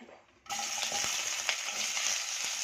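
Onions hit hot oil with a sudden burst of sizzling that settles into a steady crackle, with faint stirring clicks underneath.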